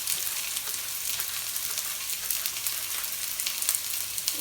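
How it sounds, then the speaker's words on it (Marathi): Sliced onion rings fry in a pan for a Konkani-style spring onion and prawn dry dish, giving a steady soft sizzle throughout with faint crackles and no talking. "आपला कांदा हा चांगलाच फ्राय झालेला आहे"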